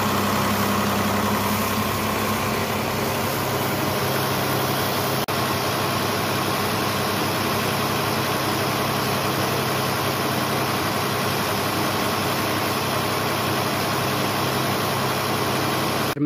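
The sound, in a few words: tractor engine running during tractor washing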